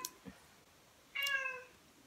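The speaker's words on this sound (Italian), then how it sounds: "ho messo via il gatto così non fa casino" A house cat meows indoors: a faint short sound early, then one clear, fairly loud drawn-out meow near the middle, alone without talk.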